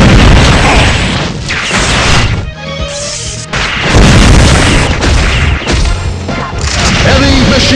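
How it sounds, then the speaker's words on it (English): Laser gun firing in the mobile game Metal Slug: Commander, loud sustained blasts with crashing impacts and explosions, broken by a brief quieter dip midway before the barrage resumes. "Laser gun."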